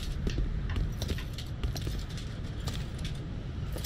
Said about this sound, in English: I hear other footsteps coming.